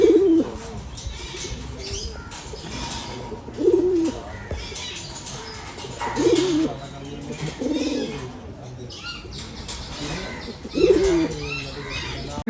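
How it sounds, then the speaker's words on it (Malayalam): Pigeons in a racing pigeon loft, with small line-bred birds making repeated soft, throaty coos in recurring bursts that sound close, while someone talks over them throughout. "ഇതൊരു സൈസ് കുറഞ്ഞൊരു ലൈന് പ്രാവാണ്."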